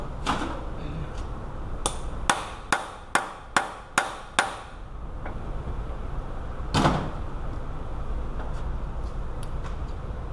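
Hammer taps on the outer end of a CV axle on a Lexus RX330: five or six sharp metallic knocks in an even rhythm, close and fairly loud, with a lone louder knock a few seconds later.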